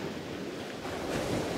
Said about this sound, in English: this sea is very wild